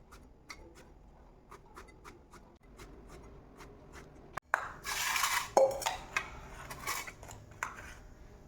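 A knife slits whole brinjals (eggplants) for stuffing, one after another in a village-style kitchen. Light, crisp ticks and scrapes come at close range in an irregular rhythm, then clattering against a pan or plate grows louder toward the end. No one speaks.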